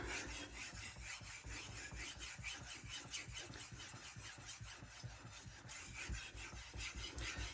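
Steel blade being honed on a 600 grit Nano Hone diamond resin stone, a steady rapid series of close scraping strokes repeating without pause, no talk.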